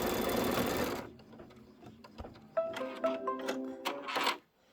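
A Kimberbell embroidery machine works a placement and trim line for a spiderweb fabric piece on a Candy Corn Quilt Shoppe block, first a loud broadband burst, then a quieter run of close, rhythmic stitching pulses and brief mechanical whirs.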